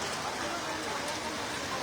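A hailstorm in Dhaka pours down as a dense, steady, hissing roar of rain and hail striking surfaces, continuous and fairly loud.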